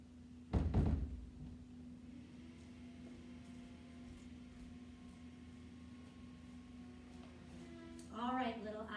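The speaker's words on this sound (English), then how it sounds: "I'm just going to close the door here." A door is closed during an indoor yoga storytime session: a single solid thud near the start, then a steady electrical hum, with a voice briefly speaking at the end.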